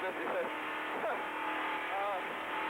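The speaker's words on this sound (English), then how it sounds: "All right, Don, the green flag is out. They're racing again." Stock cars race at the 1970 NASCAR Firecracker 400, their engines a continuous distant roar with rising and falling whines as cars pass, heard under a commentator talking throughout.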